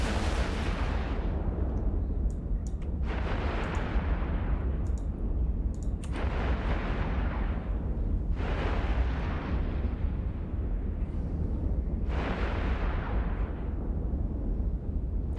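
Spaceship weapons in the Eve Online video game fire in a space battle, dealing thermal and kinetic damage, with repeated booming blasts every few seconds over a constant deep rumbling roar.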